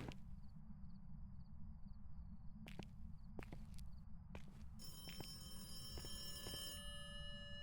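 An in-game telephone in Phasmophobia rings faintly over a steady low rumble, a thin repeating electronic trill that stops and then gives way to a brighter, sustained ringing tone near the end.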